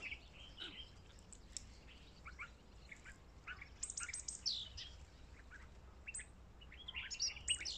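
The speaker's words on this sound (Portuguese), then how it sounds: "escutar os pássaros" Birds chirp and tweet in scattered bursts over a soft outdoor background hum, with several calls overlapping near the end.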